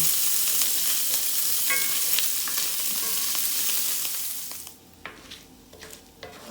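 Bacon fries in a pan for a turnip and mustard greens recipe, a steady crackling sizzle that fills most of the clip, then drops to quieter, sparser pops near the end.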